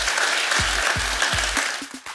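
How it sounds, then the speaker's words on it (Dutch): Audience applause for the guests at a retail innovation summit, a steady wash of clapping with a few low thumps and a brief tail, heard close and fairly loud. "Geef de gasten nog een hartelijk applaus."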